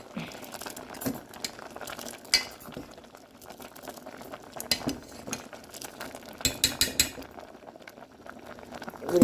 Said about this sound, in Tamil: இப்போ பாருங்க, குலசாதம் அவிஞ்சு கொண்டு இருக்குது